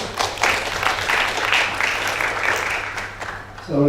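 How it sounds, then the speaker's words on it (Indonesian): Audience applause at a scholarship launch event, a steady wash of clapping from a crowd that carries on for several seconds and fades near the end as a voice begins. "silakan tepuk tangan untuk Bang Akel sekali lagi"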